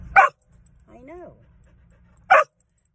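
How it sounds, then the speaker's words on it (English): A Blue Heeler dog gives two sharp, loud barks about two seconds apart, with a softer whine or yelp between them, in a quiet indoor setting. "we don't want to hear all that barking"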